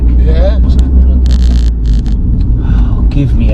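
A Volkswagen Lupo GTi driven at high speed, a heavy continuous engine and exhaust rumble with road noise, loud and close inside the car, with occasional bursts of talk.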